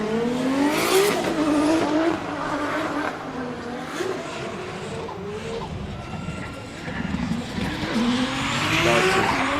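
Toyota JZX100 Chaser drifting at a Formula Drift Japan round, its engine roaring steadily while tires squeal and skid continuously, loud and close, with an announcer talking over it.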